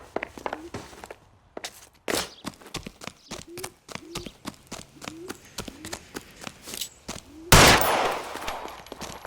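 Gunshots ring out in the video game L.A. Noire. A rapid series of sharp shots comes in an uneven rhythm, followed by one louder, sustained blast near the end.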